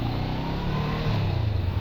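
A Honda big bike's engine revs steadily close by, a continuous rumbling drone that swells slightly toward the end, with no voices over it.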